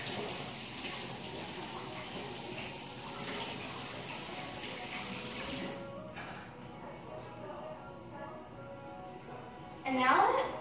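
Tap water runs into a sink while slime is rinsed off, a steady hiss of flowing water that shifts and thins midway, with a brief louder splash near the end and a voice talking over it.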